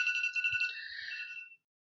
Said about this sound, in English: Excuse my phone.